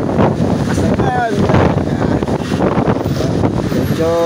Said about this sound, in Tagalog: Medyo nadadala tayo ng hangin.